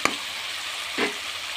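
Potatoes and tomatoes cooking in a pan with bakla beans, giving a steady close sizzle with a couple of brief stirring scrapes, no voices.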